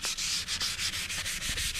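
Hand sanding of a car body panel with 320 grit sandpaper, scuffing ahead of 2K filler primer and paint: steady, close back-and-forth rasping strokes with a brief pause between each pass, heard alone without talk.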